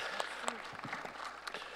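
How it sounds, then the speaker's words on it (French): Scattered audience applause at a large international event: separate, uneven claps ring out near and far while a voice keeps talking over them. "Donc je tiens vraiment à vous applaudir une nouvelle fois."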